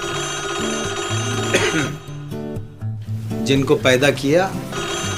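A telephone rings in a home in a Pakistani telefilm, with repeated tonal bursts sounding near and fairly loud under a man's speech.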